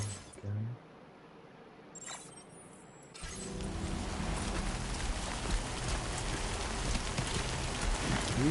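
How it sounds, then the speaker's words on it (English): Steady rain in the video game Death Stranding 2 falls as a continuous wash that begins abruptly after a few seconds of near-quiet with faint blips, then holds loud and even to the end. "Wow, you can feel the rain on the controller too."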